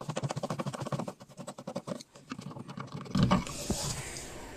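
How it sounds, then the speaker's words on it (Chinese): A screwdriver works loose the screw at the centre of a washing machine pulsator, giving rapid, rhythmic metallic clicking and ratcheting close by, followed by a heavier clunk and scrape as the screw comes free. "现在把波轮中间的这个螺丝拆开"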